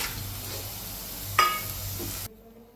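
Pavta beans dry-roasting in a hot pan give a steady low sizzle with a brief scrape of stirring midway, close and fairly quiet, then cutting off abruptly near the end.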